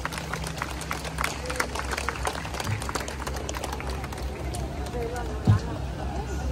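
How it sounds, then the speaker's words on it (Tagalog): A crowd claps at an Easter Sunday Salubong procession in Naic, Cavite, with loose, scattered applause spread through outdoor ambience and an announcer's voice over the top. "Sila'y salubungin ng mga palakpak bilang bayad puri at pasasalamat."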